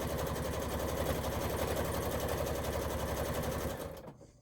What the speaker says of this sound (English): Sew once down the side.